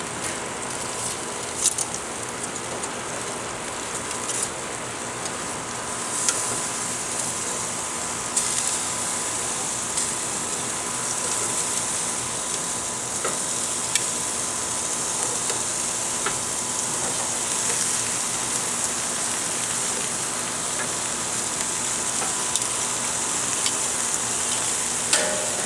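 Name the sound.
spicy pork chops sizzling on the grill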